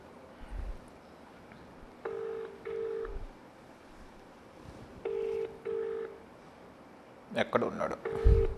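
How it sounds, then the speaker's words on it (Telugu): A telephone is dialed to place a call, clear keypad tones in short groups spread across the clip, with muffled background noise and brief louder handling sounds near the end. "ఒకసారి కాల్ చేసి చూద్దాం ఆయన ఏమంటాడు."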